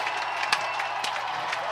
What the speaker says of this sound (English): Now the crowd has something to cheer about, and I'm going to even clap for that one.